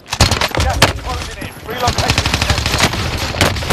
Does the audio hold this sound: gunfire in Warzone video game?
yes